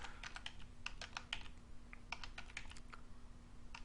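Numbers tapped out on a computer keyboard in a quick, uneven flurry of close, crisp keystrokes with short pauses between bursts, over a faint steady hum.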